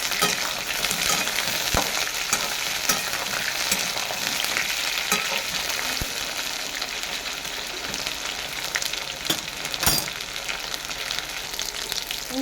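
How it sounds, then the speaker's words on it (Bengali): Pieces of pointed gourd (potol) fry in hot oil in a pan, a steady loud sizzle with a few sharp pops and stirring clinks, continuous and close, with no talk. "পটলগুলো এইভাবে ধরে ছেড়ে লাল লাল করে ভেজে নেবো"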